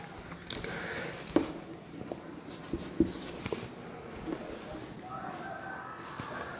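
Chalk or marker taps and scratches on a board while equations for an inductor circuit are written out, a close series of short strokes and clicks under a quiet room, with a faint voice talking at times.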